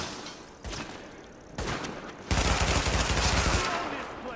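Bursts of gunfire in a third-person shooter game set in New York City: scattered single shots, then a loud sustained automatic volley lasting over a second, with brief gaps between bursts and no voices.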